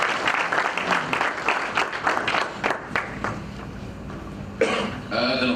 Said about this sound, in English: So I'd like us to please give the sponsors a big round of applause.